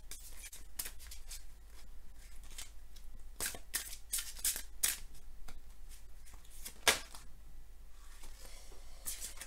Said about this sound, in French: je bats les cartes et je prends uniquement celles qui sautent